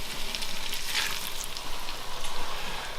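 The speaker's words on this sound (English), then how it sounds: "I'm also adding the pasta as well, and I'm also adding some pasta water." Pasta and pasta water go into a pan of garlic butter, and the pan answers with a loud, steady, crackling sizzle that hisses close up for the full three seconds, with no talking.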